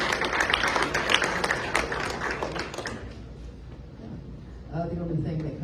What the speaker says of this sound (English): just give her a clap.